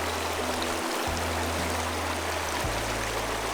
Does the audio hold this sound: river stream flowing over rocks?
yes